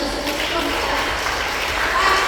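An audience at an indoor public speaking seminar gives brief, moderately loud, dense applause, with a voice faintly present underneath.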